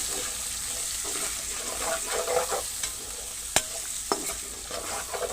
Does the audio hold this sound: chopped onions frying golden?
yes